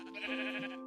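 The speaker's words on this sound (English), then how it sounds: "Oh, hello, sheep." A single sheep bleats up close in the Minecraft video game, one wavering, nasal call lasting under a second with nothing else around it.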